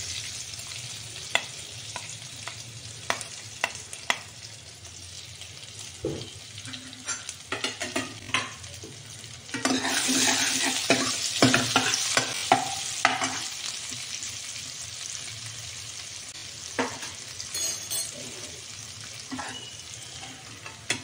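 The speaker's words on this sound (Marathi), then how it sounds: "आता आपलं तेल चांगलं तापलेलं आहे। त्यात आपण मोहरी, हिंग, आलं लसूण पेस्ट," Mustard seeds, asafoetida and ginger-garlic paste sizzle in hot oil for spinach dal, a steady close frying hiss broken by crackling pops and a few utensil clinks, swelling louder midway as stirring continues.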